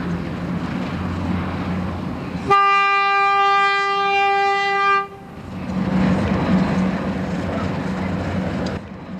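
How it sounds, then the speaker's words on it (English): A Ford diesel locomotive propelling the Terrier steam locomotive Bodiam on a heritage railway between Wittersham Road and Tenterden gives a long steady horn blast of several seconds, set between stretches of rumbling train running noise. "The Ford diesel was used to propel Bodiam from Walmenden to Tenterden."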